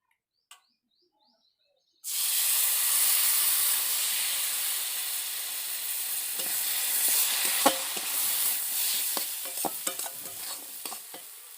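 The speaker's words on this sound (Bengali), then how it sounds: "এবার এর মধ্যে আমি একটু জল দিয়ে দেবো।" After a brief silence, water hits a hot pan of spiced mixture and bursts into a loud, sustained hissing sizzle of steam that crackles and sputters as it settles.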